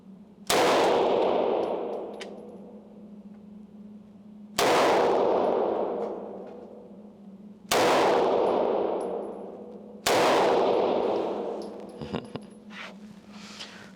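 Four loud, separate gunshots from a .380 ACP pistol, each a sharp crack with a long ringing decay, spaced a few seconds apart.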